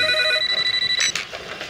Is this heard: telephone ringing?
yes